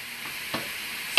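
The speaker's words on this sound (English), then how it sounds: "You can hear my bowl sizzling over there." Food sizzles in a hot pan while meatballs cook for an eggplant dish, a soft steady hiss with a brief brighter flare midway and a short clatter at the very end.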